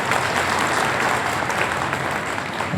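A rally audience at a protest meeting claps together, a dense, steady burst of applause close and loud, lasting a few seconds with no talk over it.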